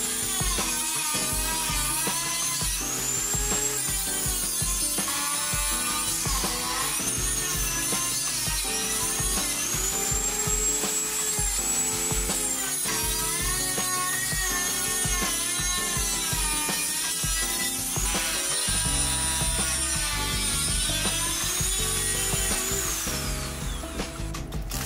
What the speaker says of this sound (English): continue to use the cutting machine to cut off the plastic case